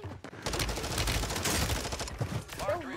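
Rapid automatic gunfire from a Vaznev 9K in Warzone 3, loud bursts crackling through most of the stretch with game effects and a voice cue near the end.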